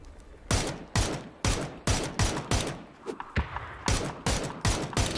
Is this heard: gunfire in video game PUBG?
yes